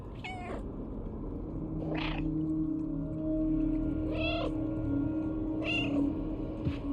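Cats in the video game Stray let out a series of drawn-out meows, four or five calls spaced about a second or two apart over a steady low background hum.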